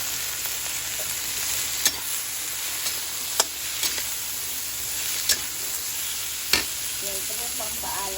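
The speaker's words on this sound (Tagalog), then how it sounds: "Yung ating sitaw at saka kamote, igisa na natin." String beans and sweet potato sautéing in a pan for a vegetable and fish dish, giving a steady close sizzle with occasional scraping stirs and utensil taps.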